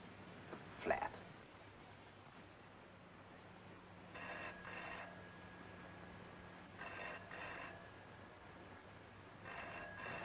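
A hotel room telephone rings in faint, paired bursts that repeat three times across the stretch, set against a quiet low room hum.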